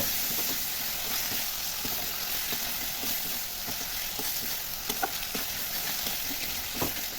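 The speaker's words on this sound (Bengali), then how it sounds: "এবার আমি এর মধ্যে দিয়ে দেব ভিজিয়ে রাখা গোবিন্দভোগ চাল আমি সুন্দর করে নেড়ে চেড়ে এর সঙ্গে মাখিয়ে নেব" Soaked Gobindobhog rice sizzles and crackles steadily in hot spiced oil as it is stirred, with occasional scraping clicks and a constant frying hiss.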